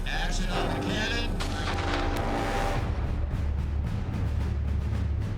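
A cannon fires on the set of a war movie, a loud booming blast and rumbling roar that fills the clip, with a voice faintly underneath at the start.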